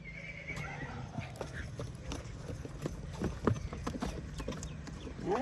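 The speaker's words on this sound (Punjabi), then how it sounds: "ਮੁਸ਼ਕੀ ਘੋੜੀ" A black mare whinnies near the start while hooves clip-clop steadily and close by, with a few sharper knocks and a voice speaking now and then over the sounds.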